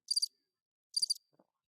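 Crickets chirp in two short, high trilling bursts about a second apart, clear and alone against near silence, with a faint low blip trailing the second burst.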